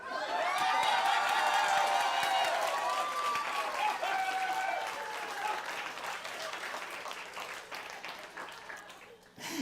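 A live theater audience at a Golden Girls stage show bursts into loud applause mixed with cheering and whoops, swelling at first and then tapering slowly while the clapping continues.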